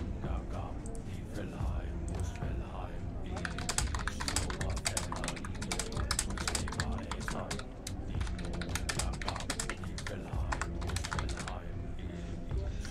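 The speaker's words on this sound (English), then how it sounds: "Oh shit, I'm typing in caps." Rapid typing on a computer keyboard clatters in dense, uneven bursts of close key clicks, running almost continuously over a background of game music and sound.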